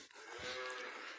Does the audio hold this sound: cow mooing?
yes